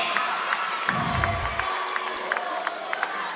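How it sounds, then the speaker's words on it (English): A college gymnastics arena crowd cheers and claps after a floor routine at an NCAA women's meet between Alabama and West Virginia, with a brief low roar and scattered whoops and sharp claps continuing throughout. "Crowd really likes that performance"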